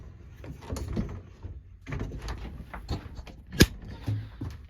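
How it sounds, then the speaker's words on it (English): A camper door is pulled shut up close amid soft rustling and handling noise, ending in one sharp thud after a few seconds of shuffling. "Close the door."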